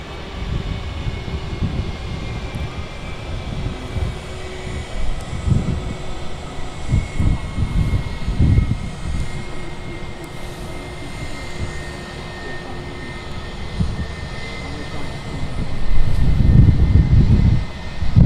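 Airliner landing at Manchester Airport with spoilers raised, a broad steady roar of jet engines and rushing air at moderate distance, swelling and rumbling louder near the end, heard alone without talk.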